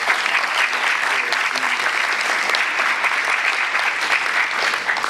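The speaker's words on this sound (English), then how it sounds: "Let's give them a round of applause." Audience applause fills a city council meeting chamber, a steady, dense clapping held at an even level for several seconds with no voices over it.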